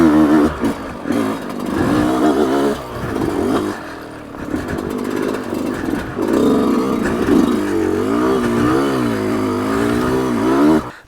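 A Yamaha YZ125X two-stroke dirt bike engine revs in first gear with the clutch slipping, its loud buzzy pitch rising and falling in repeated surges close by.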